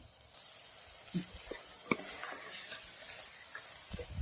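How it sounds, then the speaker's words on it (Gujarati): Spice masala roasts in a pan for a tandra khichdi. A soft, constant sizzle is broken by a few scraping stirs of the spoon, close by and fairly quiet, with no voices. "મસાલો સરસ મિક્સ કરી દેશું બે મિનિટ શેકાવા દેશું"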